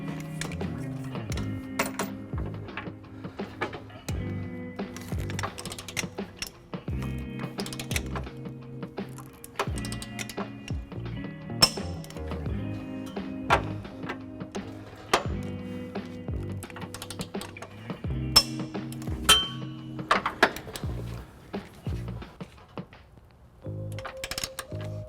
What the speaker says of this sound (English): Now we're going to take our torque wrench, 5-inch extension, and a 19mm socket and torque it to the manufacturer's specs.